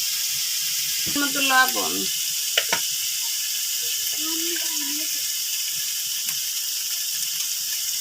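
Spice paste with turmeric fries in hot oil for an oil koi fish curry, giving a steady close sizzle that runs under a person's speech.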